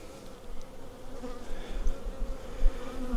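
Honey bees buzz around an open hive during a farmyard inspection, a dense, steady hum of many insects close by, with no talk.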